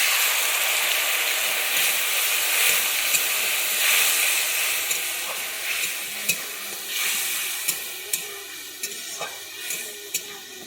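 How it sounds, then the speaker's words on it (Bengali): Spice paste thinned with water sizzling and hissing loudly in a pan while being stir-fried for a prawn and mushroom dish, a steady bright sizzle broken by repeated clicks and scrapes of the spatula. "আমার যতক্ষণ না তেল ছাড়ায় আমি ততক্ষণ এটাকে কষিয়ে নিচ্ছি"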